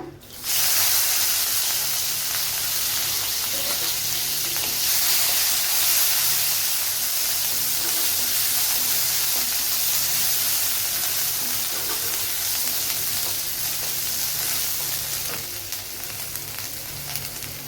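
Ginger paste hits hot oil with a loud, continuous sizzle and hiss that holds steady for the whole stretch, close and unbroken, with no talking over it.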